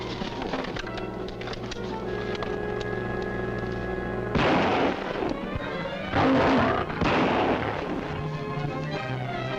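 Gunshots ring out in a jungle film serial: a few sharp, loud reports over an old, hissy soundtrack with a low hum.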